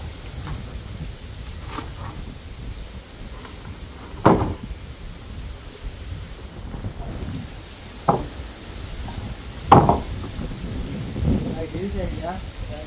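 Heavy rain pours steadily outdoors while a tree is being treated, a constant hiss punctuated by several louder crackling bursts and rumbles, likely thunder, with occasional faint voices in the background.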